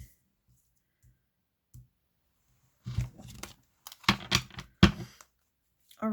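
Oracle cards drawn from a deck during a reading, a cluster of soft close shuffling clicks and card snaps after a quiet stretch, with a few isolated taps before.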